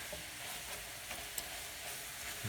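Thick slices sizzle in a very hot pan before flambéing, a loud, steady crackling hiss that runs the whole time with a few small pops.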